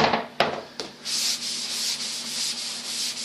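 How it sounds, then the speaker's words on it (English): A sprayable base coating material, set up mid-hard, is sanded by hand with steady rasping strokes. Two sharp taps open the sound before a continuous, close, even scratching hiss takes over. "It sands great. It's kind of it's not hard. It's not soft. It's an in-between. It sands nice."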